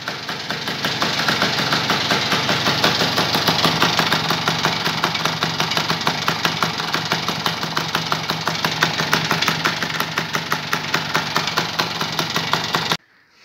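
A Piaggio Ciao moped engine fires up and keeps running, a steady rapid two-stroke putter that stays loud and close for the whole stretch, then cuts off abruptly at the end.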